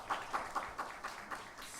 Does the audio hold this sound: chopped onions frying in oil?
no